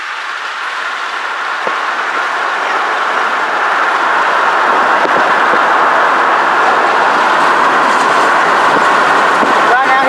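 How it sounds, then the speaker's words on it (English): Locomotives hauling an empty BNSF military train roll past on the rails, a loud, steady roar with wheel clatter that swells and persists for the full ten seconds. "Beat the locomotives, I hear them right now."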